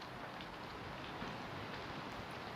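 Steady rain hisses in a dense, even wash, softened and spread by spacious reverb into a wide ambient texture.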